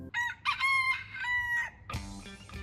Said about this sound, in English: known for its wild chickens